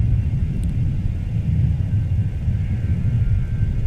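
A Southwest Boeing 737 lands on runway 12 right at Minneapolis–St. Paul airport, heard as a steady, heavy low rumble of jet engine noise that holds at an even level with no voices.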